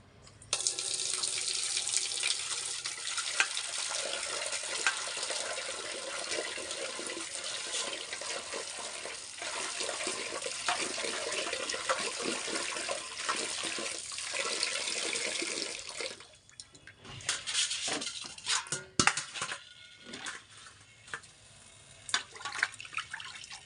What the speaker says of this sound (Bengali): আমি এবার পাবদা মাছগুলো ধুয়ে নেবো